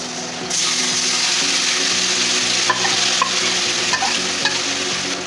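Marinated mutton hits onions in a hot kadai and breaks into a loud, dense sizzle about half a second in, with intermittent scraping of a stirring utensil.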